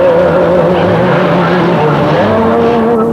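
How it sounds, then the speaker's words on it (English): Honda motorcycles buzz and rev through traffic at the Ormoc City bus station, a loud, continuous drone of engines with shifting pitch and street noise all around. "I guess the noise is too much from the Hondas."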